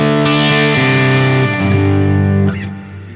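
An electric guitar is played through Helix Marshall amp models, a dual Blackback cabinet and glitz reverb, with a few sustained distorted chords changing one after another and ringing out under a reverb tail.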